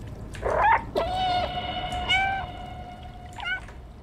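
A cat in the video game Stray meows several times, clear close drawn-out tonal meows with a short chirpy call between them, over a quiet background.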